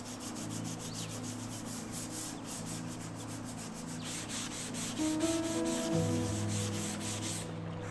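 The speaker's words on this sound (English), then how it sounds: "I have no other choice than to sand both the outside and the inside of this piece" Power sanding on a solid wood 1930s Art Deco dresser, a steady close abrasive rubbing with a humming tool tone that rises in pitch toward the end.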